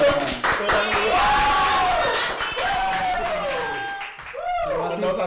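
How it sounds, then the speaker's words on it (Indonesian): Studio audience clapping on a podcast recording, rhythmic hand claps under loud excited voices and whooping cheers, lively and close, with people shouting over it. "Tepuk tangan dulu dong"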